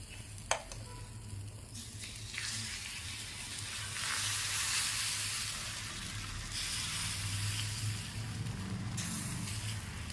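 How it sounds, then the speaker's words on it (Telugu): Red lentil dosa batter spread on a hot pan, sizzling steadily and fairly close, the hiss swelling midway after a sharp tap at the start, with no talking. "ఇప్పుడు మనం దోశలు వేసుకోవాలి."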